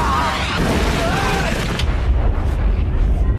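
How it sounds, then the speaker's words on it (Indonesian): A heavy, booming blast from a large gun, rumbling loud and sustained with a low roar that fills the whole moment. "anak buah Enishi yang bernama Kujiranami melakukan sebuah tembakan dari senjata besar yang dipakainya."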